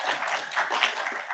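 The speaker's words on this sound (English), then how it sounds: "Why don't you first give yourself a round of applause?" An audience at an opening ceremony breaks into applause, a brief steady wash of dense clapping from many hands.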